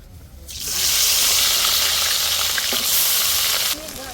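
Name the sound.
onion paste frying with whole garam masala and bay leaf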